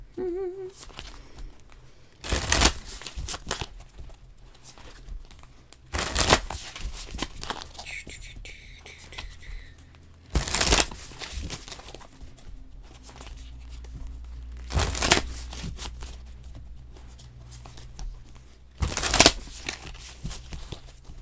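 Tarot cards are shuffled in a series of crisp, papery riffling bursts, about five of them spaced several seconds apart, with quieter handling rustles in between.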